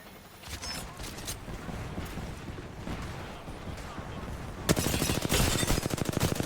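Rapid bursts of automatic gunfire in Apex Legends crackle in quick succession, growing louder and denser toward the end, with mechanical clatter in between.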